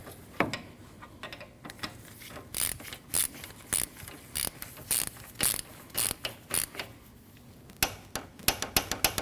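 Ratchet wrench tightening the two radiator nuts on a 2013-2019 Ford Escape 1.5L L4, close rapid clicking bursts in repeated strokes, speeding into quick short clicks at the end, no talk.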